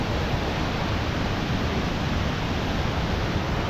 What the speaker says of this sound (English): So here I am right above the waterfalls.